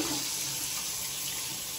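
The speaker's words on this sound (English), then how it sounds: "Here comes the hot water." Water gushing from a newly installed bathroom sink faucet, a dense continuous hiss of flow, close and steady throughout with no talk.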